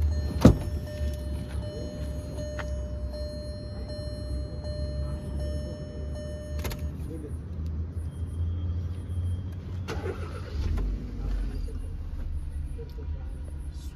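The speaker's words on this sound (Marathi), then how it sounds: "गाडी पेट्रोलवरती स्टार्ट झालेली आहे." A Hyundai Verna with a 1.6-litre petrol engine, fitted with a CNG kit, starts up with a sharp crank burst and settles into a steady low idle rumble, with a brief louder mechanical swell partway through.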